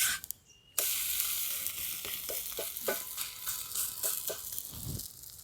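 Bean pitha frying in oil in a pan, a steady close sizzle with soft rattles and stirring scrapes after a brief quiet start.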